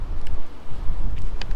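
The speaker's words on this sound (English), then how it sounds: "the wind's picking up and getting warnings on my screen for the wind" Strong wind buffeting the microphone outdoors near a stadium construction site as storm clouds gather, a loud, continuous low rumble with gusts.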